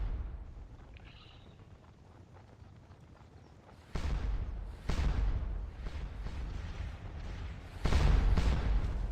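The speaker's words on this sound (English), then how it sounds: "they really have nothing they can do out there but stand there and get bombarded by artillery" Artillery bombardment in the Napoleonic Waterloo battle game Scourge of War: Waterloo, heard as a low rumbling background that breaks into several loud, booming cannon blasts in the second half.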